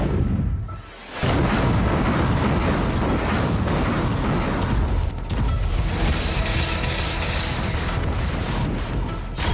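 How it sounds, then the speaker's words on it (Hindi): Artillery shelling on the Avdiivka front line in the Russia-Ukraine war: a heavy, continuous roar of blasts that begins abruptly after a brief lull and stays loud and dense to the end. "लगातार आप सुन रहे होंगे धमाके की आवाज"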